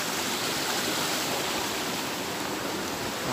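A clear river at an agritourism site rushes in a constant broadband roar, loud and close, with no voices or pauses.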